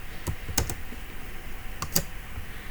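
Keys on a computer keyboard clack as a router command is typed, two quick bursts of a few crisp, close keystrokes separated by a pause over a quiet room background.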